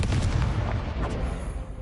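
A Confringo fire spell bursting in the Hogwarts Legacy game, a loud booming blast with a rumbling tail that fades quickly.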